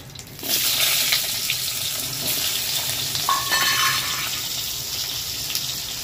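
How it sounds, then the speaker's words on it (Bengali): Long strips of potato and green banana dropped into hot oil, a loud, steady broadband sizzle that swells as they go in and continues close and unbroken, with no talking. "এবার এই তেলের মধ্যে যে আলু আর কাঁচকলাটা আমি কেটে রেখেছিলাম লম্বা লম্বা করে, সেই আলু আর কাঁচকলাটা ভেজে নেব"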